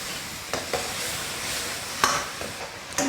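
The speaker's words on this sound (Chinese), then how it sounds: "另起锅来点油，下入昨天腌牛肉的这些料，给它们炒一下" Marinade aromatics from beef, fried in oil in a wok, give a steady broadband sizzle with a few sharp spatula scrapes and clinks scattered through it, close by.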